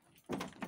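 A door swinging open inside a dinosaur-themed game, a single sudden loud clunk followed by a second softer knock, heard alone.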